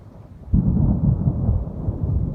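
Thunder from a powerful monsoon thunderstorm over Las Vegas, Nevada breaks in suddenly after a quiet moment, then rolls on as a loud, deep, rumbling boom that does not die away.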